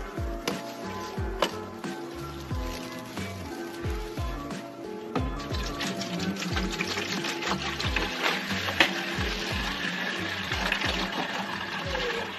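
Distilled water pouring steadily into a container for a methanol-injection mix, a continuous splashing, gurgling fill close to the mic, with some irregular knocks and thumps of handling underneath.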